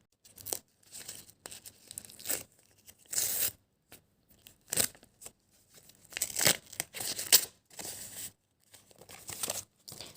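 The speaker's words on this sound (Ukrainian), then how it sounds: "зараз моя черга, і я відкрию ось такий класний пакетик з карамелькою" Paper crackles and rips in short bursts with quiet gaps between, as a paper packet holding a caramel candy is torn open and crinkled nearby.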